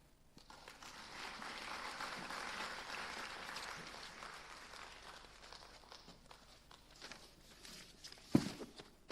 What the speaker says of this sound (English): Please, another very huge round of applause to Professor Dan Brockington.